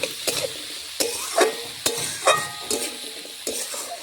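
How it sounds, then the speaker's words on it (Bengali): Flat beans being fried with turmeric and red chilli powder crackle in a pan, with sharp spatula scrapes and taps landing roughly every half to one second over a steady sizzle, close up and alone. "ভালোভাবে নাড়াচাড়া করে দেখুন একটু আমি ভেজে নিচ্ছি"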